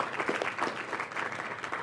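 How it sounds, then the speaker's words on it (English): Audience applause at a CollabTech 2010 lecture event, a steady wash of many hands clapping at moderate level throughout, without speech. "let's give a round of applause for Dr."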